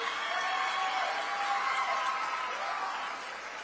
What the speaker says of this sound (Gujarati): તાળીઓ નહીં બંધ રાખીશું, તાળીઓ ચાલુ રાખીશું